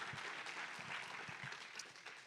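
An audience at a NorthSec security conference talk applauds a presenter, a soft, even patter of many hands clapping in a hall, quiet and sustained.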